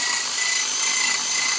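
Power drill spinning a Honda Beat piston pin against fine sandpaper to smooth it: a continuous high, even whirring-rasp with no breaks, alone and fairly loud.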